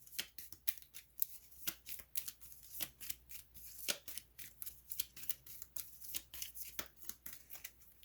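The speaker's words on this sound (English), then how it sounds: "So hopefully we can shuffle that rare back in really quickly." Cards from the Legendary Marvel deck-building game being shuffled by hand, a rapid series of crisp riffling clicks and flutters repeating steadily throughout, close up with no talking.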